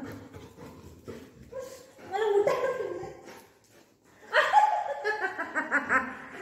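A dog makes excited whiny yelps and short barks in two bursts, mixed with a person's laughter close by.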